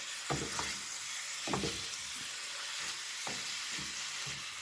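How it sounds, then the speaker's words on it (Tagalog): Chicken frying in butter and oil in a pan, a constant close sizzle punctuated by several soft thumps and stirring scrapes, no voices. "Gamit ang butter and oil, lutuin natin ang chicken hanggang sa maging tender ito."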